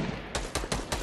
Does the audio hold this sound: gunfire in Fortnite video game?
yes